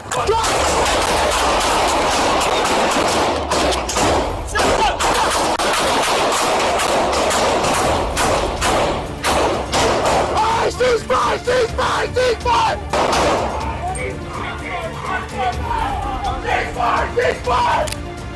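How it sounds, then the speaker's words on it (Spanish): Bursts of gunfire crack through a loud, chaotic scene with shouting voices, sharp shots repeating over a dense roar of noise. "De repente, estallaron disparos."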